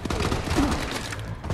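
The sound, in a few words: gunfire in Call of Duty Advanced Warfare, video game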